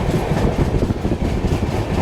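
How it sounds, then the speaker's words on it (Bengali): The Tamralipta Express pulling into Uluberia station, a loud, continuous rumble of wheels and carriages with rhythmic clatter, heard up close from on board. "ট্রেন এখন উলুবেড়িয়া স্টেশনে ঢুকছে"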